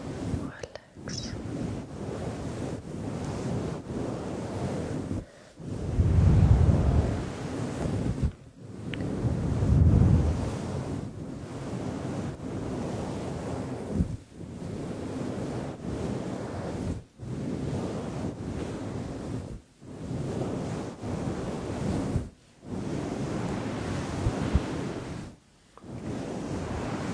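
Ocean waves are imitated by a person, with soft whooshing, whispery surges that swell and fade in slow repeated cycles, close and moderately loud.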